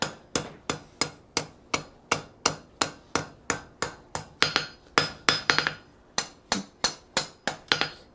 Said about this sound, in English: Always keeping our hammer moving.